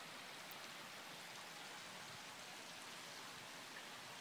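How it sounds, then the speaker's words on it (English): A small creek babbling along on an early winter day with snow on the trees, heard as a steady, even wash of running water with no voices. "the little creek babbling along"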